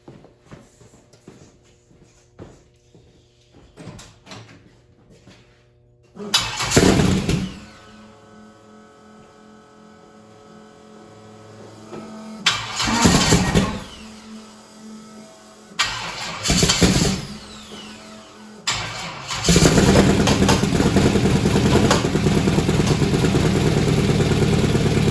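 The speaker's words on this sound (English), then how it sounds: "that sounded like she was running on just a couple cylinders there" An old engine cranks and catches in several bursts, then settles into a loud, uneven run as if firing on only a couple of cylinders, with quiet gaps between the first attempts.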